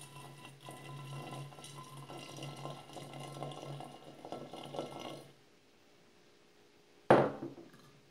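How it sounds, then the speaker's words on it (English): Boiling hot water pours steadily into a container over willow cuttings, a soft continuous trickle and splash for about five seconds, close and quiet, followed by a pause and a sharp clink of glass or lid. "I'm going to pour it in just so it covers the willow cuttings"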